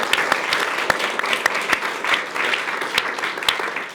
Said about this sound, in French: On peut aussi vous applaudir.